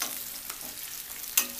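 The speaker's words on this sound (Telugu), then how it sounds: "ఇప్పుడు కరివేపాకు వేసుకోండి." Curry leaves and onions frying in hot oil give a steady close sizzle with stirring, and a brief sharp crackle spikes near the end.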